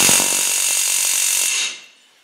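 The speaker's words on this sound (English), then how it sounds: "I hit it with the air chisel just the same" A pneumatic air chisel hammers rapidly and loudly at snapped Rover V8 exhaust manifold studs, a close, continuous metallic rattle that stops abruptly after about a second and a half.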